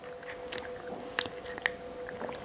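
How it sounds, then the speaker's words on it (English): Someone chews a medley of fruits close to the mic with soft wet squishes and a few crisp bites, over a faint steady hum with no talk. "I'm chewing hard on it."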